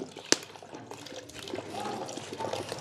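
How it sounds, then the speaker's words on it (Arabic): Vinegar pours steadily into a cooking pot at a quiet, close level, preceded by a single sharp clink. "هنحط حوالي 200 جرام خل"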